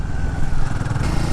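Royal Enfield Guerrilla 450 engine revs hard past 3000 RPM on wet roads, a loud, rough, continuous motorcycle roar close to the microphone.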